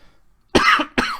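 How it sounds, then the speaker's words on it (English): Two sharp, close coughs, one after the other, breaking a quiet moment. "this cough it leaves me for 4 days and then it comes back"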